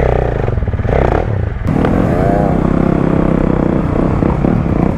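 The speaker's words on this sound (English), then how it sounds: "It's an electric bike." An electric motocross bike rides on a dirt track, giving a loud continuous whining motor drone with rising and falling pitch and some clatter, close by and with no talking.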